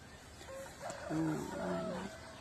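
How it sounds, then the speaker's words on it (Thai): A single rooster crow rises and stretches out briefly, heard at moderate distance over a quiet, hissy background. "เสียงไก่ขัน"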